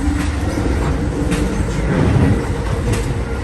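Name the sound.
train running between New York and Philadelphia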